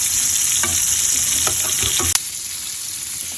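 Mutton chops fry in a hot pan, giving a steady loud sizzle with a few stirring knocks and scrapes and a sharp clack near the end, with no voices.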